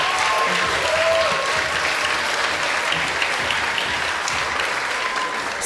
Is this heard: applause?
yes